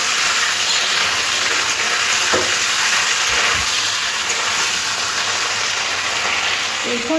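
Chicken pieces fry in hot oil left from frying potatoes, giving a steady dense sizzle with a couple of soft stirring knocks, and no voices over it.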